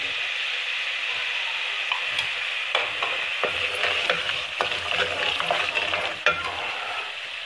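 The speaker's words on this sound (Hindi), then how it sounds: "फिर हम इसमें मिर्ची डालकर फ्राई करेंगे।" Mutton liver frying in a pan with chili powder, a steady close sizzle with scattered scrapes and clinks of stirring throughout.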